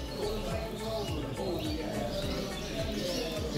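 Norwich cropper pigeons in a loft give low, repeated cooing calls with soft chirps mixed in, a busy layered chorus close by.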